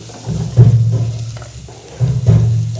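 Onion, ginger, green chili and garlic sizzle and hiss in hot oil for a fish head curry, with stirring bursts that swell and fade in a couple of waves, close and fairly loud.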